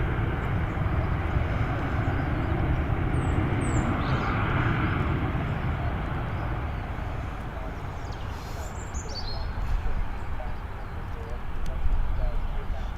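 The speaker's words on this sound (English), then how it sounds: "look at the thrust reversers going on that" Airliner landing on runway 23 at Manchester with thrust reversers engaged, a loud sustained broadband roar heard from a distance over wind, with people talking nearby.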